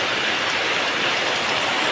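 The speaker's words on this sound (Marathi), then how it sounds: "तर जोरदार पाऊस पडतोय कोकणात" A short stretch of steady monsoon downpour in the Konkan, thick and loud, the rain hissing constantly on nearby surfaces without any speech.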